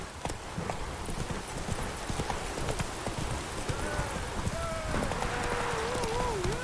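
Hooves of the horse Roach clip-clop steadily across the Witcher 3 game world, a continuous rhythmic patter under ambient noise, with a voice speaking and a brief whinny-like tone near the end.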